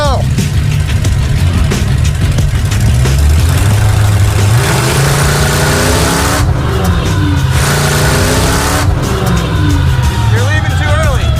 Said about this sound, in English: Even more RPM. We need to get it up higher.